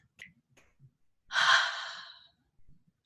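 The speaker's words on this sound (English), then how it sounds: "So everybody just take a deep breath." A single deep breath drawn in and let out slowly, close and clear, with faint small mouth sounds before and after.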